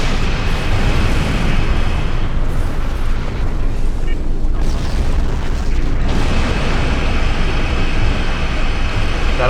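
Starship broadside weapons fire and explosions from the space combat game Star Trek Online roar loudly and continuously, a heavy rumbling barrage that thins briefly in the middle before surging back.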